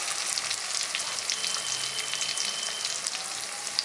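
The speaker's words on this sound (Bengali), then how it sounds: "টমেটোটা একটু নরম হয়ে গেলে এর মধ্যে আমি দিয়ে দিচ্ছি ভাজা আলুর টুকরোগুলো" Fried potato pieces hit softened tomatoes in a pan for a vegetarian puja-day dish, setting off a steady, close, dense sizzle that stays even throughout with no voices.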